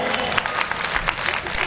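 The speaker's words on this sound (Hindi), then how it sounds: "तालियां बजाओ ढंग से।" Audience clapping at a spiritual discourse, a loud, uneven patter of hands that rises and falls in bursts, with voices mixed in.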